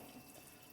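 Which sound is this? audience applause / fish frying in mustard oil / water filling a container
water filling a container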